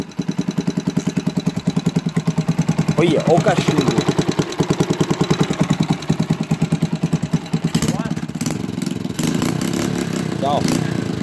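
An old motorcycle found on a farm, smoking heavily, idles with a fast, steady thumping putter, close and loud, while people talk over it.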